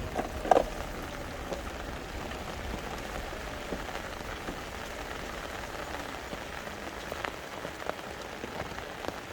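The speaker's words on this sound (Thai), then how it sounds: "ฝนตกหนัก นะเอฟซีท่าน" Heavy storm rain falling steadily, a dense constant hiss of drops pattering on surfaces, with occasional louder drips and taps.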